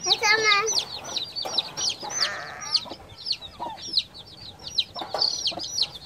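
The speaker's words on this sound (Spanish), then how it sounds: "Esta es la gallina" A hen clucks close by in a series of short, bright calls and chirps, repeating across the whole stretch, with faint background voices.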